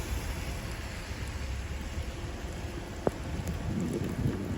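Steady rain falls on a rainy day at a veterans cemetery in Mims, Florida, a constant even hiss with a faint low rumble and one small sharp tick partway through, no voices.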